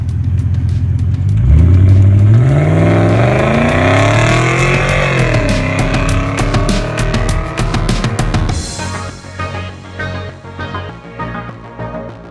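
A Volvo 2.0-litre four-cylinder rated at 367 hp revs loudly and close, its pitch climbing in a long sweeping pull before cutting off sharply into a lower, rougher idle.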